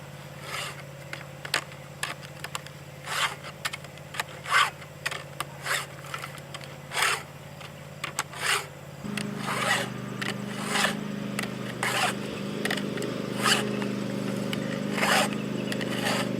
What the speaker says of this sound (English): I'm going to sharpen the saw real quick using this